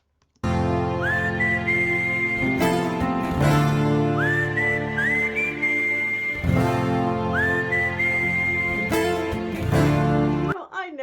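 Melodic whistling in a live song performance, clear rising phrases repeated several times over sustained backing music.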